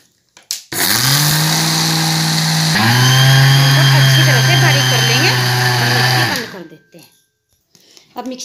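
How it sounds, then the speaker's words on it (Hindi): An electric mixer grinder whirs loudly and close while grinding sesame seeds, running steadily for about six seconds with a brief dip and pitch shift midway before cutting off, followed by faint handling noise. "मिक्सी ऑन करते हैं।"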